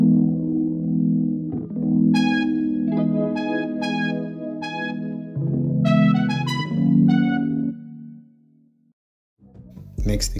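A burning brass preset on a Korg Triton synth plays a swung pattern of sustained, buzzy chords with bright stabbing accents, loud and upfront, before a brief pause and a new attack.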